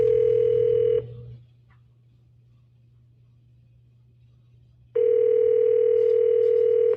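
A steady telephone dial tone on a police station phone line sounds loud and continuous for about a second, cuts out into near silence with a low hum, then returns just as loud for the final two seconds.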